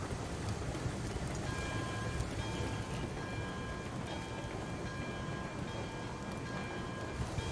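A long freight train of 27 cars hauled by a Class 70 locomotive rumbling along rails in RailRoads Online, a dense continuous roar and clatter, steady and close throughout.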